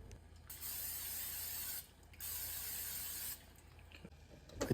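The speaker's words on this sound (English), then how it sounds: "Sprayed the pan with olive oil." Two long steady hisses of olive oil sprayed from a can onto a pan, each lasting over a second with a short pause between, close and fairly quiet, no talk.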